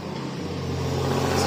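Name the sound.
car passing on the road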